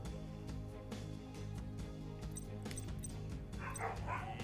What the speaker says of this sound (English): The dogs sure are noisy today.